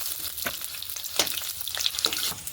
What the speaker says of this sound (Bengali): কড়াই তো গরম হয়ে গেছে, কড়াইতে প্রথমেই দেবো পেঁয়াজের টুকরো